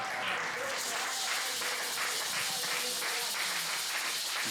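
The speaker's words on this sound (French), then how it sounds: "Est-ce qu'on peut acclamer pour la gloire de Dieu?" A church congregation applauds in praise of God, a dense, steady wash of many hands clapping at once that holds at an even level throughout, with a faint murmur of voices beneath.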